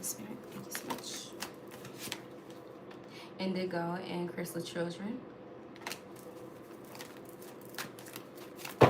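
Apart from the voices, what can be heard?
shuffling oracle cards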